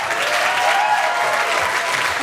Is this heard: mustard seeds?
no